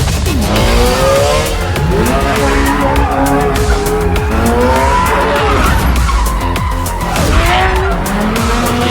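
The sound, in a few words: car doing a 360 drift, tires squealing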